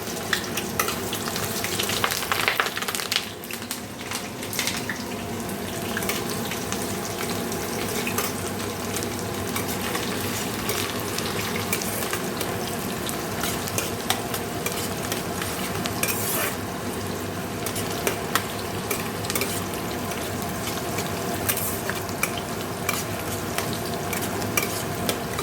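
Onions fry in a pan for a palong chicken dish, a steady dense sizzle that runs without a break, with occasional stirring scrapes and clinks over the top and no voices.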